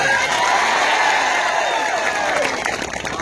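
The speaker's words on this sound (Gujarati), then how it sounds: "સૌ માટે એકવાર જોરદાર આપણે તાળીઓ પાડી લઈએ।" A large crowd at a rural political rally applauding, dense loud continuous clapping mixed with cheers and shouts, filling the whole stretch and easing slightly toward the end.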